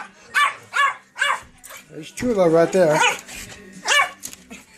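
Small pet dogs bark in sharp, yapping bursts, about four to five loud barks spaced across the moment, close by, with a person talking over and between them.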